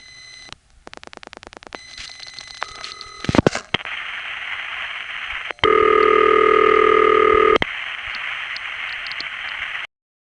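A call placed through an old panel telephone exchange in the Bronx: rapid dial clicks and switching thumps, then a steady hiss of line static broken by a loud, sustained ring tone before the static returns.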